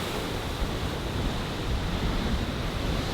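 Rough ocean waves on the Namibian coast roar as a dense, continuous wash of surf, buffeted by wind noise against the microphone, loud and unbroken.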